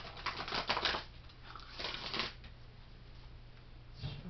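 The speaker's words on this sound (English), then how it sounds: "Shuffle them up." Tarot cards shuffled for a Cancer reading give a couple of quick, close riffling bursts, quiet and crisp, with pauses between them.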